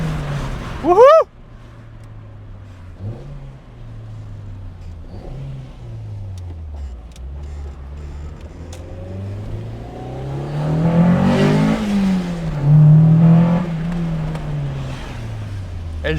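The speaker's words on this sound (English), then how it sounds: "this thing has so much intake noise" A Honda Civic with a B16 VTEC engine swap runs with loud intake roar, starting with a steady engine drone and then revving hard and climbing in pitch as it accelerates. The sound is close and fills the cabin.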